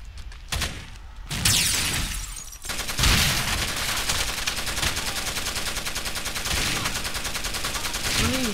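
Rapid gunfire rattles in the Rainbow Six: Vegas 2 Terrorist Hunt mode, dense automatic bursts running almost nonstop at close range.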